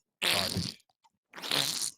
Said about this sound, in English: That's some diarrhea fart right there